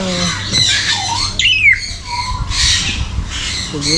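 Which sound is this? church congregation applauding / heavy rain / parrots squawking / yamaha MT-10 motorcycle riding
parrots squawking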